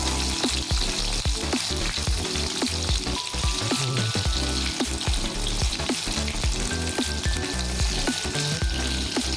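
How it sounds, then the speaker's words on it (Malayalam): Brinjal chilly pepper fry crackling in hot oil in a pan, a loud dense sizzle with frequent sharp pops and spatters throughout, no voices. "അപ്പോൾ നമുക്കിത് ഫ്രൈ ചെയ്യാം."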